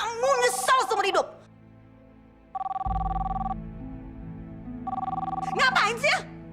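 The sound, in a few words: telephone ringing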